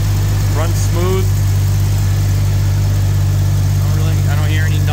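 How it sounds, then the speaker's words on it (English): 1999 Jeep Cherokee XJ engine idling with an exhaust leak: steady low rumbling drone throughout, with a voice talking briefly over it. "Well, aside from the exhaust leak, it actually runs pretty good."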